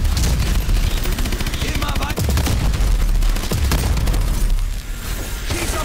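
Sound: gunfire in the video game Call of Duty: Advanced Warfare

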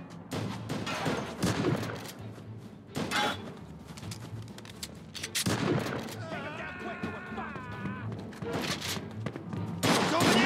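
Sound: gunfire in Mafia 2 video game shootout

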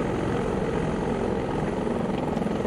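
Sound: AS565 helicopter turbines in video game X-Plane 11

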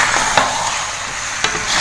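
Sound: chicken stir-fried in spice paste sizzling in pan

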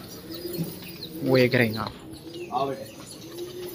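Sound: pigeons cooing

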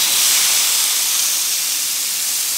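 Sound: turkey breast searing on Weber Q 2400 electric grill

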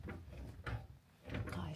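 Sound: rattling a stuck locked door

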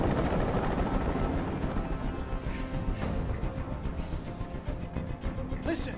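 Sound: helicopter in video game Detroit: Become Human

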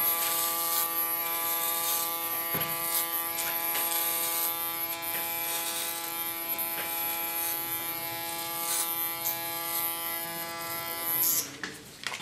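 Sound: electric hair clipper cutting hair

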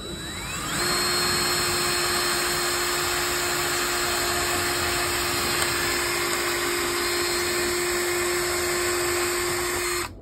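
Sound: drill making a hole in a door frame

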